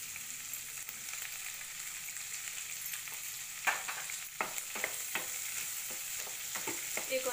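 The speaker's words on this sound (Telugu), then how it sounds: "ఇక ఇలా బ్రౌన్గా ఉల్లిపాయలు వెల్లుల్లిపాయలు అన్నీ వేగాయి." Onions and garlic fry in a pan for a banana flower curry, a steady close sizzle with a series of sharp scraping clicks from stirring through the second half.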